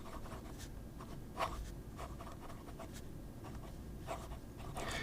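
A Jinhao 9019 fountain pen nib writing on paper, soft scratchy strokes in short irregular bursts, faint and close, with quiet gaps between strokes.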